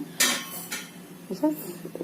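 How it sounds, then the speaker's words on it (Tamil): A few clanks of a metal pot being set down and shifted on a stove, close by, with brief quiet between the knocks. "இப்போ அடுப்பத்தை வச்சு பாத்திரம் வச்சாச்சுங்க"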